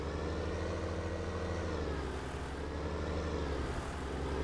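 A tractor in Farming Simulator 19 drones on with a loud, steady engine roar, pulling a spreader up a hill, with no pauses.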